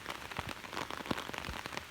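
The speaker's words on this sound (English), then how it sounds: "It is raining like cats and dogs out here." Heavy rain pours steadily outdoors, a dense even patter of drops hitting surfaces with scattered louder splats, fairly quiet and continuous with no voices.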